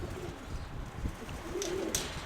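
Soft, low pigeon coos rise faintly over outdoor background noise, with a brief chirp near the end.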